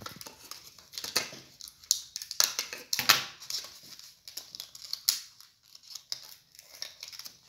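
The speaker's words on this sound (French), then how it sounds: "Je vais mettre un petit coup de ciseau." Scissors snip through plastic toy packaging while unboxing a Sylvanian Families mouse mother figure, giving a run of short crisp cuts and crinkles at close range with no talking.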